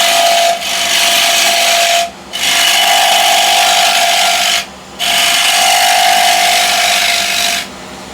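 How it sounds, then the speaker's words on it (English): A spindle gouge shapes a small curve into a spinning wood blank, producing loud, close, hissing cutting passes broken by three short pauses, with a steady whine from the turning lathe underneath. "Introduce with the spindle gouge just a little curve here."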